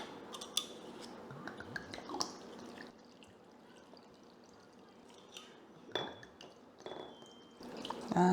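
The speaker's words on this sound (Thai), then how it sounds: "แล้วก็จะใส่เหล้าขาวลงไปค่ะ" White liquor is poured into a glass jar of karanda fruit packed with rock sugar. A faint, steady pour and drip is broken by a few light glassy clinks.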